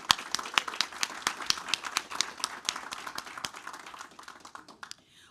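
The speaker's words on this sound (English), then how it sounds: "Let's have a round of applause for Bells Mill Elementary School in Montgomery County Public Schools." A room of people claps together at a Maryland state board of education meeting in honor of an elementary school, with sharp, dense hand claps that fade over about five seconds, no talk.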